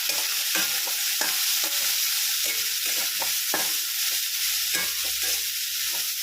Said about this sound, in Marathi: आपण छान असा कांदा परतून घेणार आहोत.